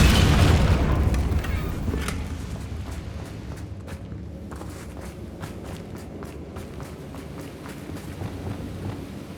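Incendio fire spell cast in Hogwarts Legacy, a loud fiery burst with rumbling booms at the start that fades into a sustained crackling roar with scattered sharp pops.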